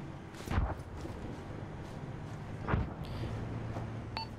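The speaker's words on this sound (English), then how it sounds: "We have mortar fire landing to our southeast." Mortar rounds land in Arma 3 combat: two distant, booming impacts a couple of seconds apart over a low battlefield rumble.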